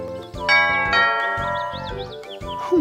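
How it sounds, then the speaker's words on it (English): A bell on a bell rope rings at Owl's house in the animated Winnie the Pooh film, giving bright chiming tones over sustained cartoon music, with a few soft thumps between. "Perhaps I should ring the bell instead of knocking."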